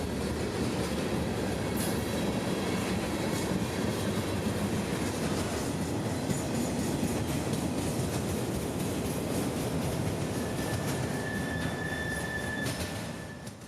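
Freight train 441 rolling through Plant City, Florida, a steady loud rumble of rail cars with clickety-clack wheel beats and a brief wheel squeal, close and continuous throughout.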